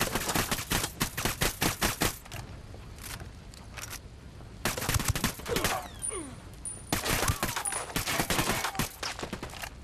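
Bursts of automatic gunfire in the co-op shooter Ghost Recon Wildlands, with rapid volleys in several clusters separated by quieter gaps and a few single shots.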